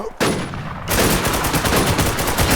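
Video game gunfire rattles in rapid automatic bursts, loud and close, with the shots running together into a dense, sustained volley.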